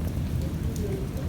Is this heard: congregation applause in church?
no